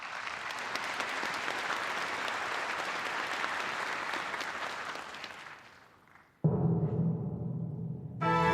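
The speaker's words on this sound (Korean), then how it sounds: "여러분 박수로 맞이해 주시기 바랍니다." Audience applause at a Korean ceremonial stage event, steady clapping from a large crowd that fades out, followed by a cut to a brighter, louder sound with a low tonal hum.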